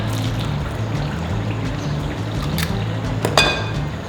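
Soy sauce trickles steadily from a bottle into siomai sauce over a low background hum, a faint continuous pour ending with a light clink, with no talking.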